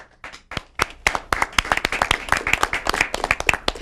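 Studio audience at a live televised debate show applauds, starting with a few scattered claps that build into dense, steady clapping close by, with no talking.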